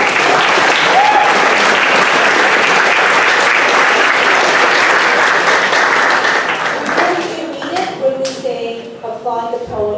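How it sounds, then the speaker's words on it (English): A big round of applause from a school spoken word poetry event audience, dense and loud for most of the stretch, thinning toward the end as a voice begins speaking over the last claps. "can I get another round of applause for all the spoken word poets?"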